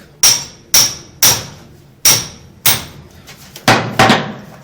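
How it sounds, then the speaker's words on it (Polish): A small hammer strikes a steel wire rope splice in about eight loud, close taps with a ringing edge, spaced unevenly with short pauses between blows. "Młoteczek."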